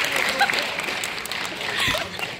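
Audience applause for volunteers at a hypnosis show, moderate clapping mixed with cheering and voices, rising slightly toward the end.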